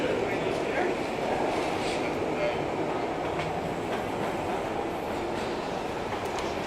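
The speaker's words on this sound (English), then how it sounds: "His train just took off." A train pulls away in an action-film scene, giving a steady, loud rumble of rolling rail cars with a faint clatter throughout, while voices speak over it.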